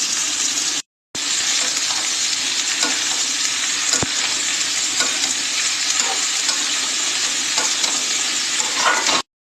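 Dried fish frying in a pan with jackfruit seeds and raw pumpkin, a steady loud sizzle with stirring scrapes close up, briefly cut silent near the start, no voices.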